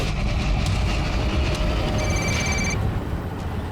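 A phone rings in a tense police search scene, a steady electronic trill sounding for about a second over loud rumbling background noise.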